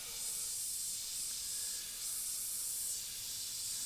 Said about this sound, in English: the airbrush that I'm using here is the GSI Krios PS770